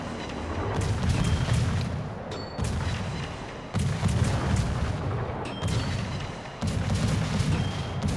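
Battleship secondary guns fire shells in a naval video game, sounding as repeated heavy, booming volleys that roll into each other, with several distinct salvos landing loud and close over the whole stretch.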